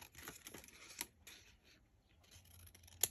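Scissors snip small pictures out of paper for a Regency-style wallet craft, with a few quiet, close cuts and rustles and two sharper clips.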